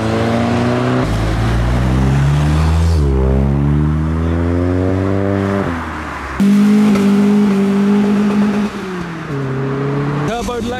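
Modified cars leaving a Japanese car meet in Reading roar and rev hard, engine notes climbing and falling in several loud, close accelerations as vehicles pull away, with one sharp burst near the end.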